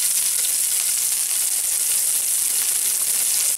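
Cumin seeds and green chilies fry in hot oil, a dense continuous sizzle, loud and close, with no voices.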